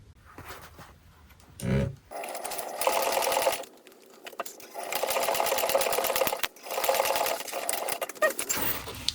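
An industrial sewing machine top stitching a laptop bag runs in several sustained bursts separated by brief pauses, loud and close, with a short thump early on.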